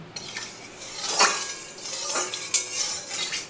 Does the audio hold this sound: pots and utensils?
yes